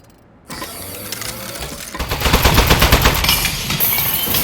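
A turret gun fires in the video game Aperture Desk Job. After a soft mechanical start, a loud, rapid, continuous burst of shots rattles for several seconds with no talking.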